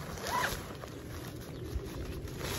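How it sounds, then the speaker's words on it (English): A double zipper on the fabric sidewall of a canopy sunshade is pulled shut in one steady quiet run, close up and alone with no talk. "So then you just zip this up, and it is a double zipper"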